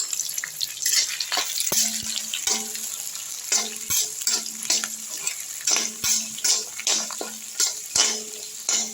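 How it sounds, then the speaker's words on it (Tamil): Small sambar onions and dried chillies sautéing in a pan, with a continuous close sizzle broken by repeated rhythmic spoon scrapes and stirring knocks every second or so. "சாம்பார் வெங்காயமும் காய்ந்த மிளகாவும் ஒன்றா போட்டுக்கலாம் நல்லா அது நல்லா வதக்கி விட்டுடலாம்"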